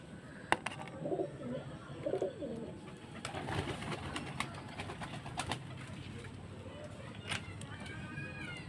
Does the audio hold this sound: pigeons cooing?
yes